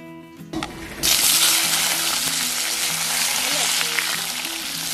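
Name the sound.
potato and eggplant frying in oil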